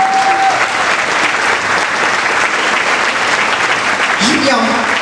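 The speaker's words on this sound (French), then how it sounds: "On en redemande encore des applaudissements pour nos jeunes." Applause for young performers on stage at a New Year's greetings evening in Béziers, a dense, steady clapping from a large hall crowd lasting throughout, loud and continuous, with a voice briefly audible near the end.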